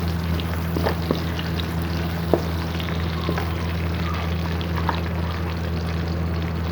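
Round gourd (tinda) frying in a pan with garlic and ginger gives a steady, even sizzle and hiss for the whole stretch, over a low constant hum, with no talking.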